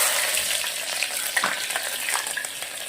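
Four hot green chillies fry in groundnut oil with a loud, continuous sizzle, while a spoon scrapes and stirs through it in short, busy strokes.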